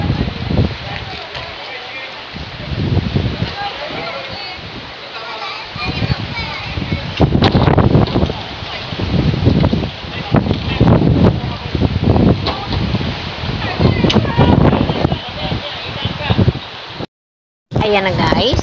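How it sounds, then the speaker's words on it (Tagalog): Strong seaside wind buffets the microphone in rumbling gusts while people talk loudly over it, with a brief dropout near the end. "Ang lakas ng hangin."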